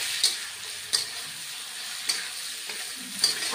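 Spices sizzle and fry softly with potatoes and lentil nuggets in a pan, a steady faint crackle broken by a few sharp clicks of stirring, with no talking.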